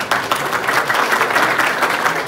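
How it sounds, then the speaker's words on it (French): Steady applause from an audience at a formal university chair launch ceremony, dense and continuous clapping throughout at moderate volume. "professeur Tussel Prédélus, sous vos applaudissements."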